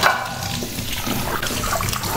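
A kitchen tap runs steadily while used dishes are washed, a continuous close splashing stream of water with no talking.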